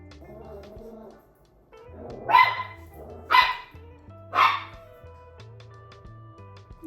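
Three loud dog barks spaced about a second apart, close by, over a low steady background hum.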